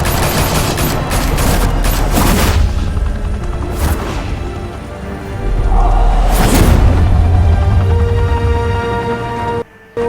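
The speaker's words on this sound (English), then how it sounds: "Open fire!" A gunfight in Batman: The Telltale Series: loud rapid bursts of gunfire and booming shots come in waves, with a whooshing surge midway before cutting off abruptly.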